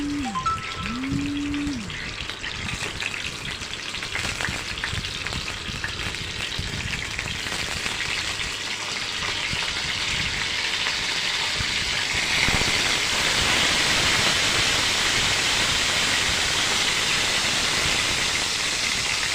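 Eggplant slices fry in hot oil with a loud, continuous sizzle that grows more intense and hissing partway through.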